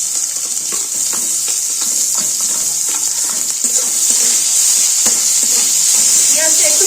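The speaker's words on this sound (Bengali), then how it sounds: "পেঁয়াজটা একটু ভালো মতো লাল করে ভেজে নেব।" Chopped medium-sized onion frying with tempered spices in a pan, a continuous close, loud sizzle with scraping stirs of a spatula throughout.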